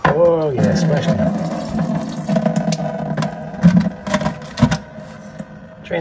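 Coolant from a BMW 135i E82 N54 radiator splashing and trickling steadily into a bucket, a low continuous pour with a few louder splashes near the end, under brief talk.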